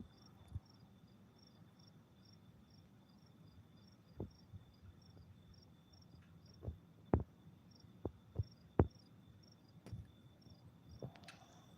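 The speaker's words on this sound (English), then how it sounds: "Did you hear me shut off that cricket?" A cricket chirps in a steady, faint repeating pulse at night, a soft high beeping cadence running throughout, with a few louder thumps and clicks scattered over the quiet background hum.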